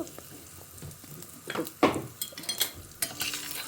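Urad dal and black pepper dry-roasting in a pan, with soft scraping stirs and light crackles rising in a few louder bursts, close and moderately quiet with no talk.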